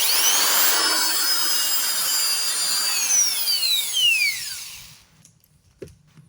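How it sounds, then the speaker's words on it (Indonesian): A small power drill whines loudly and close while boring into a GoPro wide-angle wet lens housing. Its high pitch slides steadily downward as the motor winds down, then stops abruptly, leaving a faint click. "Kita langsung bor rumah wet lensnya ini."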